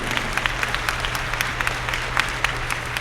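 Audience applause at a Martin Luther King Jr. celebration, a steady dense wash of clapping with sharper individual claps, held at even loudness over a low hum throughout.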